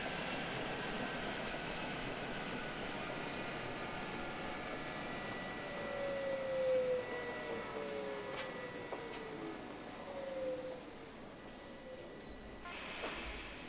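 A Berlin U8 subway train runs in Microsoft Train Simulator, giving a steady rolling rumble with rising and falling motor whine, a couple of brief squeals, and a faint clack near the end.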